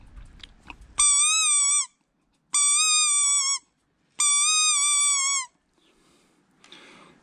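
Squeaky foam dog-toy figurine used as a hunting call to imitate a lapwing, sounding three separate drawn-out whistling squeals with pauses between, close and clear with faint handling noise.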